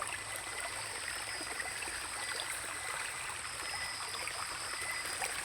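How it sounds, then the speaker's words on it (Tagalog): A river flows in the dark, a continuous rushing and trickling of water heard steadily and fairly close throughout, with no speech. "May ilog pala dito mga tol"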